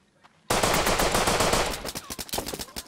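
Rapid automatic gunfire in a multiplayer shooter video game: silence, then dense machine-gun bursts start abruptly and continue loud and close, thinning into separate sharp shots near the end.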